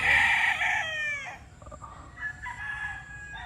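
A gamefowl rooster of Sweater and Roundhead lines crows loudly and nearby, its long call trailing off, followed by softer clucks and faint chirps.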